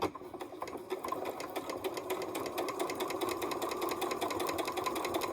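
A sewing machine stitches through a quilt of triangle scraps with extra seams on top and bottom, giving a steady, close, fast mechanical whir and rhythmic needle clatter that runs the whole time without talk.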